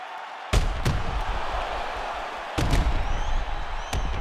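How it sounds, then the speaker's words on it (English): Fight crowd in an arena applauding and cheering between rounds, a steady broad roar with louder bursts of clapping and noise swelling near the start and again midway. "the crowd voicing its appreciation after that crazy sequence in the previous round."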